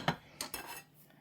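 Metal baking pans clatter as they are pulled out in a kitchen, with two or three quick faint clanks and a short rattle, no voices.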